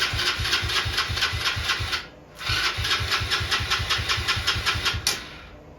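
A replacement engine on a Tao Tao Chinese quad runs with a rapid, even putter at close range, briefly dipping and then resuming its steady mechanical chatter.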